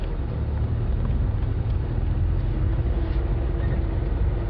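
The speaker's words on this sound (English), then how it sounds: "I can't hear with the engine running" The engine of a safari game-drive vehicle runs at a steady low idle rumble, close and continuous for the whole stretch, with no voices over it.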